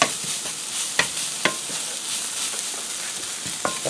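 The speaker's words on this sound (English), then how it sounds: "continue frying this just for a minute" Steady sizzling of garlic frying in a hot pan for a white lasagna, punctuated by occasional sharp clinks and scrapes of a utensil stirring.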